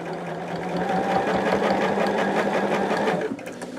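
Sewing machine stitching binding onto a quilt, a steady fast mechanical whir with rapid needle clatter running continuously, close and fairly loud, easing off near the end.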